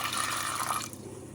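Water poured over dried peas in a container to soak them, a steady close splashing pour that cuts off near the end, with no talk.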